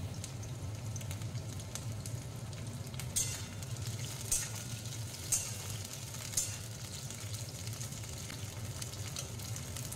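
Drumsticks and long beans frying in hot oil for shukto, a soft continuous sizzle and bubbling with occasional crackling pops, fairly quiet and steady throughout.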